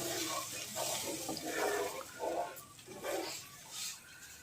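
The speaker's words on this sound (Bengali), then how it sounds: "এবার আমি দিয়ে দেবো জল" Water is poured into a pan of mustard pomfret curry, a close, splashing gush that swells and eases in several uneven surges with no talking.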